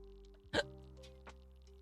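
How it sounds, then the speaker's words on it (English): A single sharp hiccup from a person, close and abrupt, sitting over a low steady background hum, with a faint softer catch of breath a moment later. "I keep hiccuping and burping at the same time"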